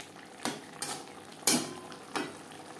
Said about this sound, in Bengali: লবণ হলুদ মশলার সাথে বেশ ভালো করে মিক্স করে দেবো।